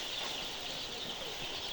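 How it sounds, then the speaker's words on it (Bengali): Thousands of day-old layer chicks on the floor of a poultry shed make a thick, unbroken wash of shrill cheeping, steady and fairly faint. "বত্রিশশো লেয়ার মুরগির বাচ্চা রয়েছে"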